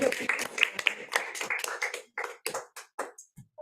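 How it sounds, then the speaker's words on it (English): An audience claps in a burst of irregular, fairly close hand claps that thin out into scattered individual claps toward the end, at the close of a panel event on development banks and financing partnerships. "Big clap"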